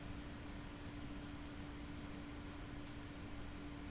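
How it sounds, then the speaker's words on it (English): Steady rain falls in the Kana.EXE video game, a constant faint hiss with a low drone underneath, even and unbroken throughout. "Is it raining outside in universe?"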